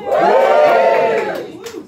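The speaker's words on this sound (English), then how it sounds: "Give us a cheer if you're a dog person." An audience at a comedy show lets out a loud, sustained cheer and shout for the dog lovers, swelling for over a second before tapering off into scattered voices.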